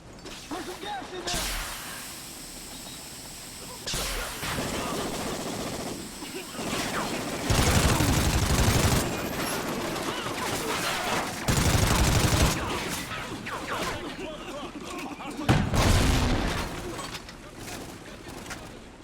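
Video game gunfire in a military shooter, with repeated loud bursts of automatic fire and single shots in clusters, some close and heavy, mixed with shouted radio-style voices calling out incoming fire.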